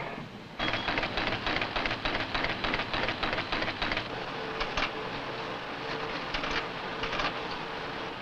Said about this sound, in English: This is the sound of metal being ground, being welded, being formed,